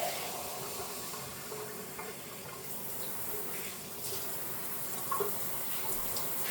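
Tap water runs steadily into a pot for pork neck bone soup, a continuous hissing pour with no talking over it.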